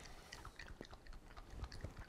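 Someone chews raw liver close up, with soft, wet, squelching chews and small bites in an irregular rhythm, faint and without speech.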